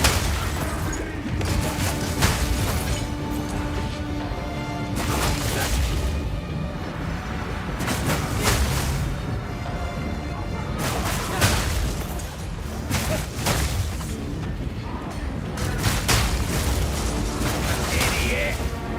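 Repeated explosions in the video game Palworld burst in quick succession, loud booming and crackling blasts arriving in clusters over continuous game noise, with a voice talking at times.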